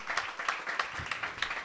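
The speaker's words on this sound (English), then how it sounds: "if you guys could do that round of applause again a little bit louder" Audience applause with a crowd clapping in a quick, dense patter, moderately loud and close, with no voices over it.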